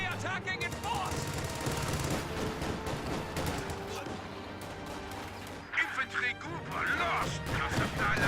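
Light machine guns fire in a World War II real-time strategy game with German units, producing rapid bursts and crashes of gunfire that play under steady commentary.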